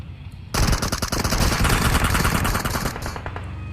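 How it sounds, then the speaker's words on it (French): Sustained machine gun fire in PUBG Mobile pounds an armored vehicle, a loud dense rattling burst that kicks in abruptly after a brief quiet start and runs continuously before easing off near the end. "il encaisse beaucoup de balles"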